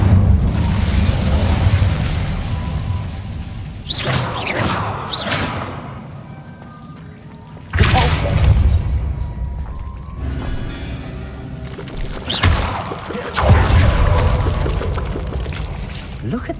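Magical fire spells blast in Hogwarts Legacy, with several loud bursting booms and crackling explosions coming in separate waves over game music and ambience.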